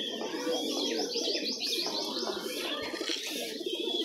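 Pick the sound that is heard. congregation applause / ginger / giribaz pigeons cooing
giribaz pigeons cooing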